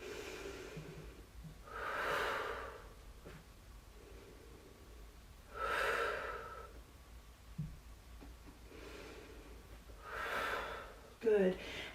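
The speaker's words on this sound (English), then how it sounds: "Deep breath." Deep, slow breathing during a yoga class, three long breaths drawn in and let out at steady intervals, close and clear, with a few small rustles between them.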